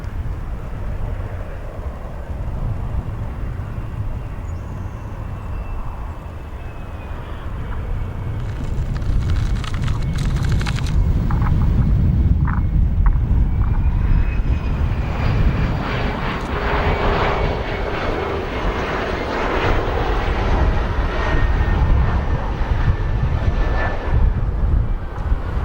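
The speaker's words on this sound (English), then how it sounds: "Next, we have a unmarked CRJ 700." An unmarked CRJ 700 regional jet at O'Hare airport, its engine roar broad and sustained, growing louder midway as it passes close, with a faint rising whine throughout.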